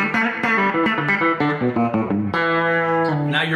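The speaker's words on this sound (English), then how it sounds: "Now you're listening to a Fender Twin with just a slight bit of reverb, a Fender Twin Tone Master" Electric guitar with plenty of bite from the back pickup, played through a Fender Twin Tone Master amp with a slight touch of reverb: a run of plucked notes ending in sustained ringing chords, loud and close, with no voices.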